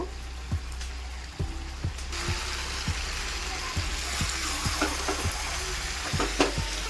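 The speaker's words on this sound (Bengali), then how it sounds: "চিকেনের রঙটা কিন্তু অনেকটাই চেঞ্জ হয়ে গিয়েছে আর সামান্য একটু ভেজে নেব" Chicken pieces for chicken bhuna fry in a pan with a steady sizzle, while regular low knocks of stirring repeat about once a second throughout.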